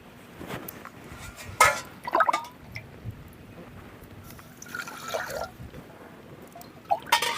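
Water pours and splashes from a tumbler in a few short, uneven bursts, with faint drips and a longer trickling pour midway, close by in a quiet room.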